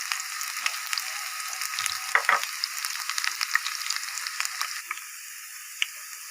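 Chopped onion and garlic fry in a pan, giving a steady, crackling sizzle with frequent little pops and ticks that continue throughout, with no talking.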